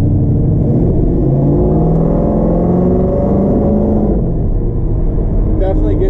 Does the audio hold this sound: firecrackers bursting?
no